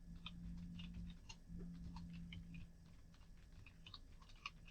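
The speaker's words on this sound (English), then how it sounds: "I'll even type that in." Clicks of a computer keyboard being typed on, quiet and irregular, with a low steady hum running underneath throughout.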